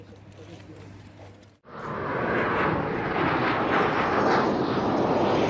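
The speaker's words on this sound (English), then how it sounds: "This is the moment a plane crashed in Nepal on Sunday morning." A passenger plane flying low just before crashing in Nepal, its engine roar swelling in abruptly after a quieter stretch of faint background noise and then holding loud and steady as the aircraft passes close.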